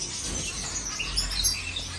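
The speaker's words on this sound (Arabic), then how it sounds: "غرفة الطيور" Birds chirp and tweet continuously at moderate volume against a steady background hum, with several small birds calling at once in an enclosed space.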